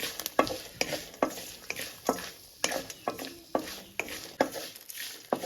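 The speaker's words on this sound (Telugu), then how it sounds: "కరేపాకు వేసుకున్నాం కాబట్టి బాగా వేగాలండి స్లో ఫ్లేమ్లోనే" Curry leaves fry in tempering oil over a slow flame. A steady soft sizzle runs throughout, and a spoon scrapes the pan in quick irregular strokes close by.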